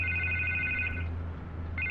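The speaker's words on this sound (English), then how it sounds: "I can't get the phone to stop ringing" A telephone in Batman: The Telltale Series rings with a steady electronic trill, one burst that cuts off partway through and then starts again, over a low background hum with no talking.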